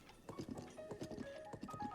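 A horse trots in a Zelda video game randomizer, its hooves clip-clopping in a quick steady rhythm with faint synthetic game tones underneath, no voices.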